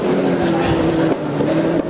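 Formula Ford 1600 race cars at a historic racing festival drone past with a steady, loud engine note that dips slightly as they go by.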